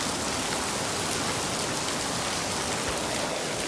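Heavy rain pours in a steady, dense hiss that fills the whole clip at an even level, with no voices heard.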